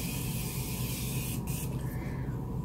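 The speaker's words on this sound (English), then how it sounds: "the new Morphe Prep and Set. Best spray in the history of life because it's an aerosol." Morphe Prep and Set aerosol setting spray hisses in one steady continuous burst, close and fairly loud, with no talking over it.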